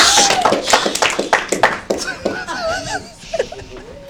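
Audience at a poetry slam clapping in a loose burst that fades after a couple of seconds, with whoops and cheering voices rising over it, then excited vocal calls and chatter.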